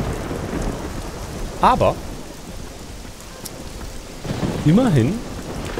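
Steady rain hisses throughout in the video game Risen 2, with a rumble of thunder underneath, while someone speaks briefly twice over the storm.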